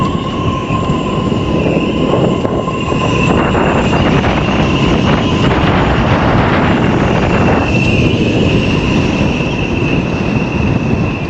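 A strong gale of around 40 knots buffets the microphone on an exposed spot by the sea. It makes a loud, continuous, roaring rumble that never lets up.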